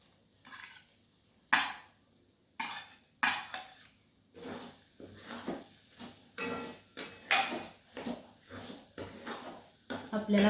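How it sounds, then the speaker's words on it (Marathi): Grated coconut is stirred into a paneer and pea curry, with repeated scraping clinks of a spoon against the pot in irregular bursts and speech heard alongside. "त्यानंतर हे खोबरं मिसळून घेऊ"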